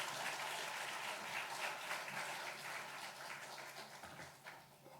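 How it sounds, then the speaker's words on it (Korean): A church congregation applauds to welcome an elder pastor to the front, a dense, steady wash of clapping that stays full for several seconds before thinning slightly toward the end. "이렇게 박수를 주셔서 고맙습니다"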